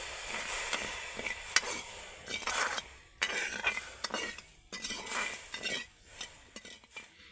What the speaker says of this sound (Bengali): চিনিটাকে আমি জলের সাথে ভালো করে গলিয়ে নেব